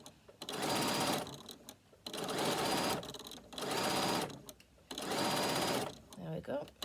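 A sewing machine top-stitches a fabric bag in four bursts of rapid, close-up stitching, each lasting about a second or so, separated by short pauses.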